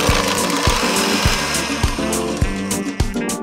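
An electric hand mixer creams softened butter in a large bowl, giving a steady motor whir with rhythmic knocks as the beaters strike the bowl at a regular beat. No one talks.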